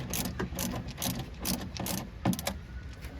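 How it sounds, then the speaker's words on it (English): Torx T25 screws being driven back in by hand to secure a trim piece on a Volvo XC90, giving a run of repeated ratcheting clicks in quick bursts, close and fairly quiet. "Now we can tighten the two T25 screws"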